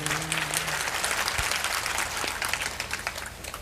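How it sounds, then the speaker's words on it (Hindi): An audience claps in sustained applause at a spiritual talk, dense and continuous for a few seconds with no speech over it. "आज ताली बजाने में आप अलर्ट हैं।"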